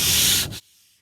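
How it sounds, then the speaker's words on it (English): Regular sandpaper rubs across a painted finish with the grain in one short, close, loud scratchy stroke that cuts off abruptly, leaving a faint tail. "If you're going to use regular sandpaper, sand with the grain."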